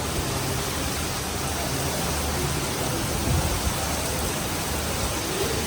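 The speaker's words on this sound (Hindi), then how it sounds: "अब भी बारिश आ रही है भाई, मज़ेदार।" Steady, dense rain pours during stormy weather with dark, heavy clouds and strong wind, a loud unbroken hiss filling the whole stretch with no voices.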